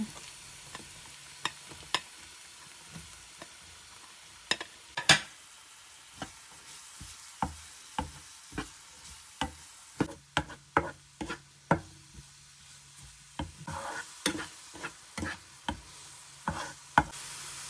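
Chopped onions frying in oil for fish and vegetable cutlets, a quiet continuous sizzle broken by frequent sharp spoon taps and scrapes against the pan, with no talking.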